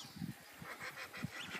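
Ducks calling at a wetland with plenty of water and bird life, a series of short, fairly close honking quacks in irregular bursts over steady outdoor background.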